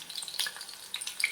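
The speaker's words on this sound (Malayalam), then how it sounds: "പച്ചമുളക് വറുത്ത് കോരുമ്പോൾ സൂക്ഷിക്കണം, ഇത് പൊട്ടിത്തെറിക്കാനുള്ള സാധ്യതയുണ്ട്" Two green chillies frying in sesame oil for ginger pickle crackle and sizzle up close, with quick bright pops scattered over a steady hiss.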